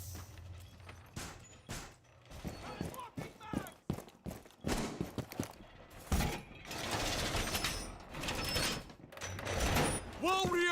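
A wall being reinforced in a tactical shooter video game, heard as clanking, creaking mechanical sounds and metallic impacts in bursts, with voices speaking throughout.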